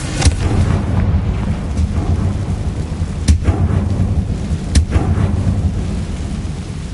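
Confringo blasting spell in a Harry Potter video game, a heavy rumbling explosion under a steady low roar, with a few sharp crackling impacts spaced through the following seconds.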